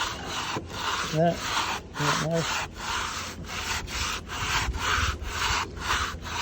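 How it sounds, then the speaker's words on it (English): A sanding block scrubs back and forth across a wood window sash in quick repeated strokes with a rough rasping texture. It is close up, and a brief voice breaks in once. "I gotta sand off"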